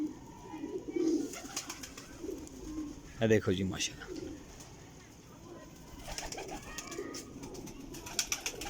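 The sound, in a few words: Sialkoti pigeons cooing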